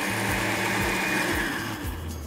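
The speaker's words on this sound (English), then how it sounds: "give that about 30 seconds to a minute in the blender" A blender whirs steadily up close blending a mint marinade, with a rhythmic churning pulse, running continuously without any talking.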